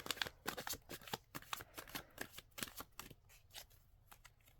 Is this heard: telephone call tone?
no